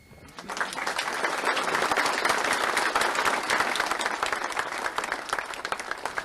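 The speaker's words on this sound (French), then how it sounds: "Voilà, on applaudit." Sustained applause from a crowd at an outdoor inauguration of a racecourse in La Capelle, dense and steady clapping filling several seconds after a short quiet start.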